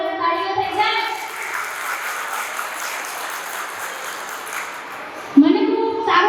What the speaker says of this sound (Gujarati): તો એમના માટે એકવાર જોરદાર તાળીઓ થઈ જાય